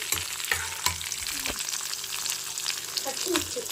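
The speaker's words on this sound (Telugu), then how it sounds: "అల్లం కూడా ఆయిల్లో వేయించుకునేటప్పుడు" Ginger frying in hot oil, a steady bright sizzle with a few sharp stirring clinks and scrapes near the start, close and continuous throughout.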